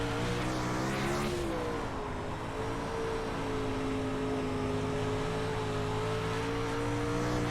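A dirt-track race car in the iRacing sim holds a steady, loud engine drone with a brief dip and rise as the throttle comes back on, the harmonic tone climbing slightly before settling into sustained acceleration.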